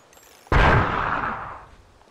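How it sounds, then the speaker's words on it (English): A flashbang going off in the tactical shooter game Ground Branch: one sudden, loud, close blast after a short quiet lead-in, fading away over about a second and a half. "we'll just showcase throwing a flashbang real fast"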